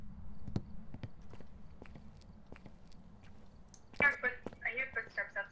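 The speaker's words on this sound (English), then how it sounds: "I hear footsteps" Footsteps from the floor above in the ghost-hunting game Phasmophobia: a series of faint, irregular thuds, with a short burst of speech near the end.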